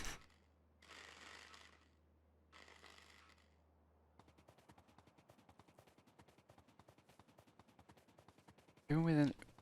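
Cannon turret firing in Factorio, a long steady train of rapid sharp shots after a few seconds of quiet swishing sounds, ending with a louder burst of noise.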